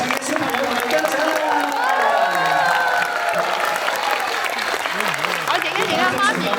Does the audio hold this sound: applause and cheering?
yes